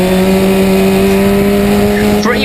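Historic Formula Ford race cars at Brands Hatch brake and drop a gear into Clearways, a loud steady engine drone with strong harmonics and a brief rising pitch near the end as the revs change.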